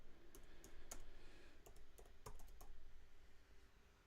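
Fingers tap out a run of crisp keystrokes on a keyboard while entering a name for a drum app giveaway, the clicks scattered and irregular, close and moderately quiet, with no talk over them.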